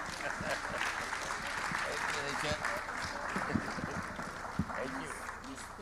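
Audience applause after a journalism talk, a steady and dense clapping from a sizable crowd that fills the whole stretch at moderate distance.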